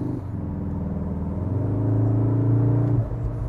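A Cupra Formentor 310 hp AWD crossover engine pulls hard under throttle, a close, steady drone that rises in pitch and swells louder before easing off near the end.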